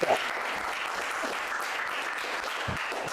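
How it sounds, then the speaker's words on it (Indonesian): A class applauds a student named Sekar after a ranking announcement at the end of a lesson, giving steady, dense clapping from a group that stays even and fairly close throughout, with no talk over it. "kasih tepuk tangan buat Sekar."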